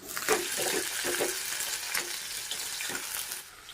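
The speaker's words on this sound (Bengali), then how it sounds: "আলু দিয়ে দিলাম, বেগুনটা দিয়ে দিচ্ছি," Eggplant and potatoes frying in oil with panch phoron, bay leaf and green chilli produce a close, crackling sizzle with several stirring scrapes and clatters across a few seconds.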